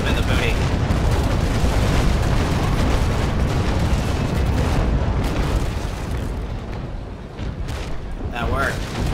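Ship cannons fire in the naval battle game Naval Action, heard as sustained, dense booming rumbles that roll continuously, loud and broadband, easing slightly toward the end, with faint talk from a player.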